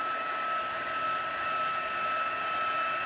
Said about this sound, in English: You could use a hair dryer for this, absolutely